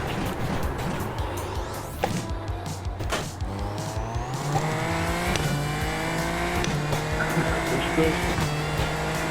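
Engine and tire noise from a racing video game car as the rear tires lock under late braking on worn tires, a steady loud drone with rising engine pitch and squeal, with a voice speaking briefly.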